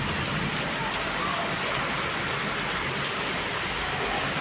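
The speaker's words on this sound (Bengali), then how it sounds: "অবশেষে আপনি আমাদের উপর রহমতের বৃষ্টি" Rain falls steadily and loudly, a dense, unbroken hiss of drops on surfaces that holds without pause throughout, with no voices.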